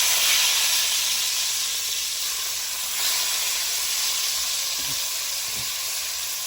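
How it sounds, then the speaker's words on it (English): Beef seared on all sides in a hot pan for shredded beef tacos gives a steady, close sizzle and hiss that holds evenly throughout, with a couple of faint low knocks near the end. "we got them seared on all sides"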